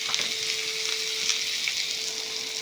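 Green chillies, slit garlic and ginger frying in coconut oil, a steady close bright sizzle with faint stirring crackles throughout, no voices.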